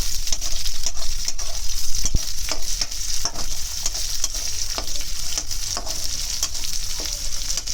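Onion pieces frying in hot oil with black cumin for a taro and fish curry, a steady loud sizzle with repeated scraping stirs of a spoon against the pan, close and continuous with no talking.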